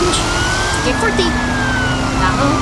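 A wailing emergency siren from a fire brigade, police car and tow truck in an animated truck cartoon, rising and falling slowly over a dense, loud rumble of traffic noise.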